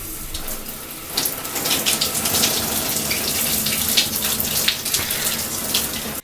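Water is poured in a continuous gushing stream for a model of rising sea levels, loud and close, splashing steadily for several seconds before cutting off abruptly.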